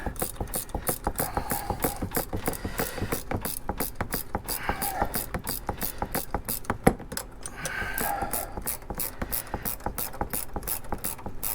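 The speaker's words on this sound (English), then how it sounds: "get our shock tightened down" A hand ratchet clicks steadily while tightening down a motorcycle front shock, a fast, continuous run of sharp close-up pawl clicks with a few brief pauses.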